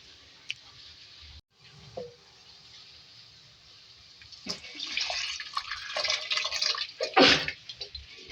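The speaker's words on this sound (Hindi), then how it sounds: "अब इसमें दाल ऐड करेंगे जो मैंने गला ली थी" Cooked moong and masoor lentils are tipped into a cooking pot, starting with faint drips and then a close, wet, sloshing pour that grows louder over several seconds.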